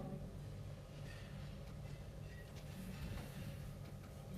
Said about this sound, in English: Waiting for the train.